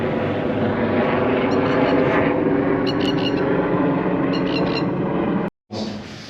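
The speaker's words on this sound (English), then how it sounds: "Rescue helicopter." A rescue helicopter flying overhead near a coastal fort looking out over the Pacific Ocean, a loud broad engine and rotor roar holding steady before cutting out abruptly near the end, with no voices.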